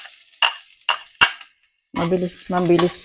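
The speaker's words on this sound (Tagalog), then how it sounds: "So, gigisahin ko na lang siya ngayon" Three sharp metallic clinks of a utensil against a pan, followed by two bursts of sizzling and stirring as vegetables for string beans and squash in coconut milk are sautéed close by.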